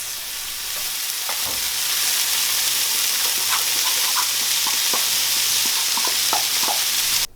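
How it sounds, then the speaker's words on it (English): Peppers and chilies stirred in a hot skillet with spices for a one-skillet Mexican rice dinner, a steady loud sizzle and hiss with scattered scraping stir clicks throughout. "Add the peppers, chilies,"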